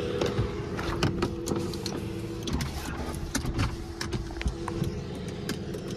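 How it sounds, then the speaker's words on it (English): Electric power windows on an older, worn car hum as they travel up and down, a quiet, close motor whir with faint clicks and no talking. "All the windows go up and down except for the back."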